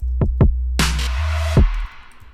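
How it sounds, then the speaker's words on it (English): A trap production transition plays deep 808 bass hits and punchy kicks, then a bright noisy reverb swell that washes in and cuts off sharply, followed by a final kick and fading tail. "That is a reverb effect."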